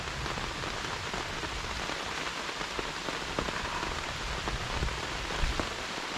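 Steady, heavy rain pouring down and pattering on a surface, with scattered sharper drips, continuous for the whole stretch and no voices.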